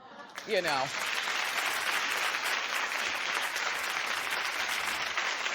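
A brief voice gives way to a steady wash of studio audience applause at a TV talk show, many hands clapping continuously for several seconds.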